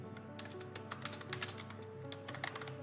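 Rapid, irregular clicks of a computer keyboard being typed on, close and fairly quiet, in short bursts with brief pauses between them and nothing else alongside.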